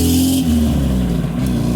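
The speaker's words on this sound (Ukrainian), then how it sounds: "Ой, Жигульчик поехал." An old Lada Zhiguli car drives off nearby, its engine a loud steady drone with shifting low tones over a short stretch.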